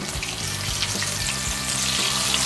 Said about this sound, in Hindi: 5 मिनट के लिए एक साइड से पकाऊंगी, 5 मिनट के बाद फिर इसे टर्न करूंगी।